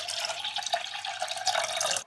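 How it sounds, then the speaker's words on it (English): Water runs steadily into a pot with a noodle seasoning mix, a continuous close hiss of pouring liquid that cuts off abruptly after about two seconds. "it says to add 500 mils of water to this"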